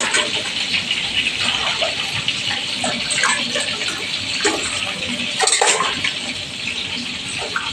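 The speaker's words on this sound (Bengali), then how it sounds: "মোটামুটি 8 কাপের মতো গরম জল, 1 চামচ 2 চামচ তেল ঘি দিলাম।" Hot water, about eight cups, pours steadily into a pot holding oil and ghee while a Malabar biryani is cooked, a continuous close rushing gush running the whole time.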